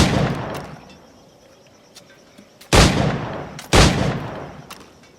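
Single-shot firearm in Assassin's Creed IV Black Flag: a decaying blast at the start, then two sharp loud reports about a second apart with ringing tails, near and prominent, no talk.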